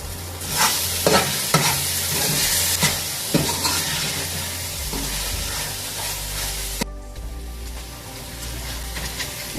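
Karela with daal chana being stirred in a pan, a steady close sizzle with repeated scraping stir strokes through the first seven seconds, then a quieter simmering hiss continuing alone.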